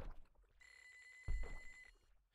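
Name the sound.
telephone ringing in the video game Normal Fishing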